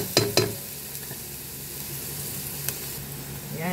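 Green peas and garbanzos sautéing in a pan with a soft steady sizzle, punctuated by a few sharp scrapes and clinks of a spoon stirring, close up and with no talking.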